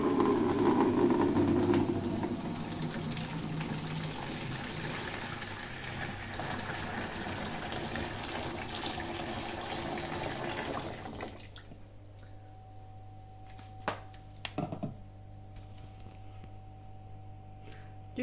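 Tap water runs steadily into a container, a loud rushing pour for about eleven seconds that then stops, leaving a quieter room hum with a few small clinks and drips.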